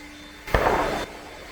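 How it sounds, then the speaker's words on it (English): A single distant hunting gunshot in the countryside, one sharp muffled boom with a brief rolling tail, standing alone against quiet background. "Guess you heard the gunshot."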